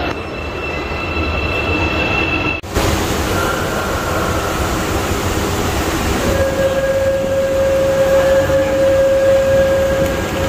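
A train pulls into Incheon Airport station with a loud, continuous rumble of wheels on rail, and a sustained high metallic squeal rises over the roar as it slows.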